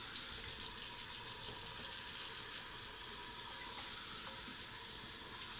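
Tap water running steadily to rinse an iron skillet, a continuous splashing hiss at moderate distance, no talk.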